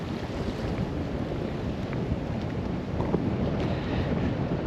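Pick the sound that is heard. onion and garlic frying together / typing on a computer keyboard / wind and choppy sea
wind and choppy sea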